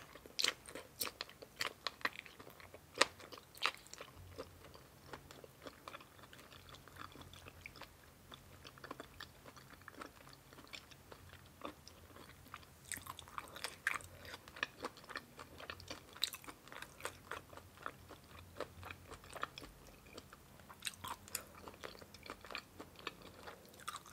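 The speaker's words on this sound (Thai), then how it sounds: "ก็สิได้กินหมึกกรอบๆแบบนี้เลย" Crunchy blanched squid, boiled then chilled in cold water, being chewed and bitten in repeated crisp crunches and wet mastication sounds, close and quiet, continuing steadily without talk.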